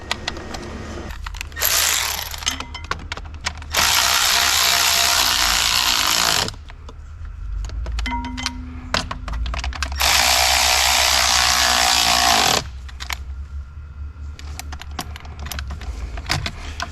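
Ratchet wrench tightening throttle bolts on an Audi Q7 engine, with long bursts of rapid clicking that start and stop across the clip, loud and close, alone without speech.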